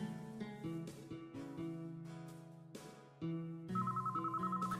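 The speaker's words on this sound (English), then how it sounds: "The phone was ringing off the hook when we returned." A telephone rings in the visual novel Sharin no Kuni, its electronic bell trilling in repeated bursts with a steady tonal pattern, clear and fairly loud with no talking over it.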